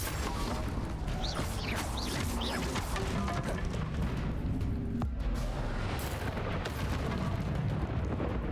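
Spell blasts and crashing impacts from the Bombarda spell in Hogwarts Legacy, dense and loud over constant game noise, with rumbling explosive bursts and debris-like clatter.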